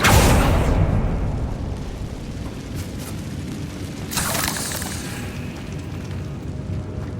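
Confringo blasting spell exploding in Hogwarts Legacy, a loud booming blast at the start that rumbles and fades, followed by a second burst of crackling debris about four seconds in.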